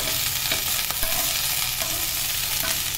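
Steady close frying hiss as coconut and mint sauté in a pan for pudina chutney, broken by a few light stirring scrapes and taps, with no talking.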